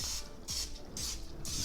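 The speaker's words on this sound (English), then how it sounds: "Gonna spray this down on the top." Chicken wings in a Ninja Foodi Grill get four short bursts of cooking spray, each a sharp hiss lasting a fraction of a second with brief gaps between, close up and with no talking.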